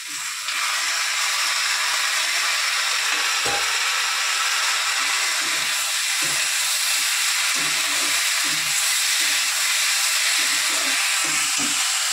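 Cut potatoes sizzling in hot oil in a home kitchen pan: a steady, loud hiss of frying that holds for many seconds, with faint clinks of stirring now and then.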